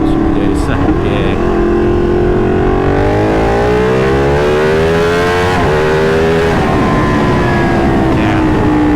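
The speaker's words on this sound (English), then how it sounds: "Let's try and have a little explore of the rev range. See where the power comes in. What should we do? Second gear." A Ducati 959 Panigale motorcycle engine revs up through second gear, its loud, continuous sweeping tone rising steadily in pitch, close and dominant throughout.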